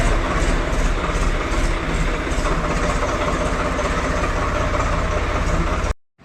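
A tractor engine runs loud and close as the machine is driven out, a steady, heavy broadband rumble that holds evenly before cutting off abruptly at the end.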